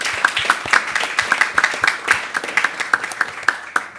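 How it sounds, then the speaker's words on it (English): Audience applause for panelists at a climate negotiation intersessional event, a steady patter of many hands clapping close by, continuing evenly for several seconds with no voices over it. "Please join me in a final round of applause for our panelists."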